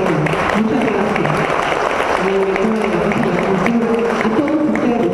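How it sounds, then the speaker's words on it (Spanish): Steady, sustained applause fills the room at a cultural forum meeting, honoring a teacher; a crowd claps continuously and fairly loudly throughout, with voices murmuring underneath. "el aplauso es para ti, maestra"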